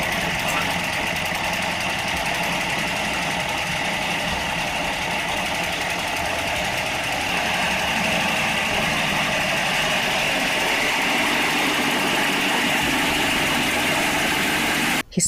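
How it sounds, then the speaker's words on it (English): A petrol-powered food pounding machine runs in a steady, loud mechanical drone with a knocking throb, continuous and close, and cuts off abruptly at the end. "fuel petrol machine for pounding food, which to Mr. Numbi was hazardous to the environment as it causes air pollution"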